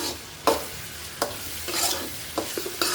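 Onions frying in a pan for a tomato egg curry are stirred with a utensil, giving several sharp scraping strokes over a steady, soft sizzle, close and fairly quiet.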